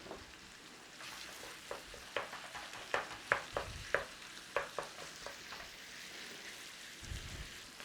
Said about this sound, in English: Just keep giving it a stir around, work it in there, just start to cook it down